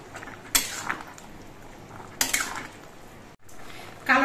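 Pumpkin curry with black cumin paste being stirred in a pot, a utensil scraping and clinking against the metal in a few brief bursts over a quiet background.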